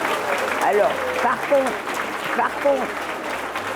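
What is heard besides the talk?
students applauding their teachers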